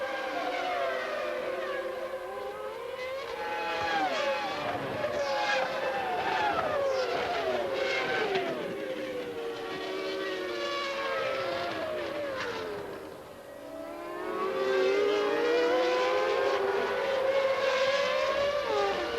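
A 1996 Williams Renault Formula 1 car driven by Villeneuve accelerates, its high, whining engine note sweeping up and down through the gears in loud, continuous waves, briefly easing off before surging again.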